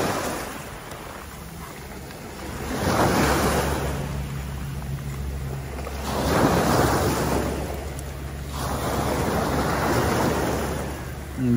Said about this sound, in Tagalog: Kasi lumakas talaga yung alon guys.